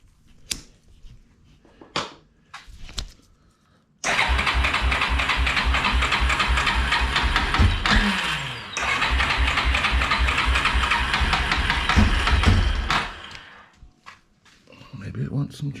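A 1997 Yamaha Big Bear ATV engine cranks a few times with short bursts, then catches and runs at a loud, steady, close idle with a rhythmic chug for about nine seconds before cutting off. A few muffled knocks follow.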